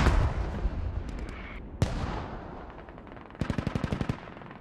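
Gunfire in the Squad video game: dense distant rifle fire with a single loud close shot, then a rapid automatic burst of about a dozen rounds near the end, over a constant background of battle noise.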